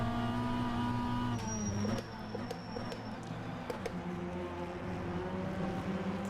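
AI-driven touring race cars from the BTCC field in rFactor 2, engines droning in sustained harmonic whines that shift pitch as they run side by side, with brief clicks and a gear change partway through.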